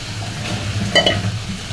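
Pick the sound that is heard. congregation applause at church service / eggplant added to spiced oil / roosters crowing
eggplant added to spiced oil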